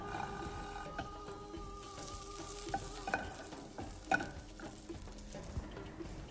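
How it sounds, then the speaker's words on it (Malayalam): Butter melting in a second pan to start a sauce, giving a steady close sizzle and light crackle with a few clinks of a utensil against the pan. No voices are heard. "അപ്പോൾ അതിന് നമുക്ക് മറ്റൊരു പാനിലേക്ക് കുറച്ച് ബട്ടർ ചേർത്ത് കൊടുക്കണം."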